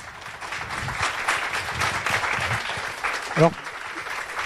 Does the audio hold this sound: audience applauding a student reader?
yes